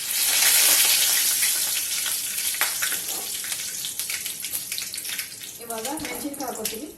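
Cumin and mustard seeds crackle and spit in hot oil in a home kitchen pan, then curry leaves go in with a loud, dense sizzle that gradually settles, close by with no talking.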